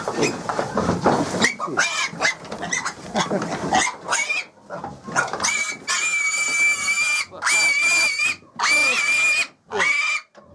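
Piglets about six weeks old grunt and squeal, with rapid oinks early on and shrill, sustained squeals later, loud and close, mixed with a person talking to the animals.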